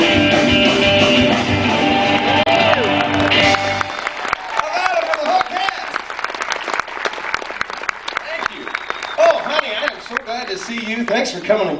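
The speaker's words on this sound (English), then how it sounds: "Give them all a big round of applause." An audience at a Branson show bursts into applause, dense clapping that starts over background music and thins into scattered claps with a few voices.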